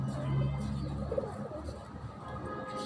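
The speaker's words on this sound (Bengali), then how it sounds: "এই নতুন পায়রা আছে গাইস, একবারে নতুন পায়রা" A newly acquired pigeon coos softly in a home loft, a few low murmuring calls over quiet room noise.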